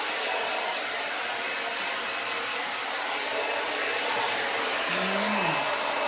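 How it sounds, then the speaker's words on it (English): A hair dryer blows steadily and loudly throughout while short blonde hair with a razor-cut texture is dried, its airflow roar constant with a brief pitch shift near the end. "And just blow dry"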